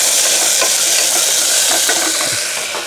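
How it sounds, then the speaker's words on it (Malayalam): Small whole onions are stirred as they fry in a pan for a Kerala-style beef curry. A loud, dense sizzle runs throughout, with soft scrapes and ticks under it and no speech. "ആ ഉള്ളിയുടെ ഒന്ന് ഇളക്കി കൊടുക്കുക."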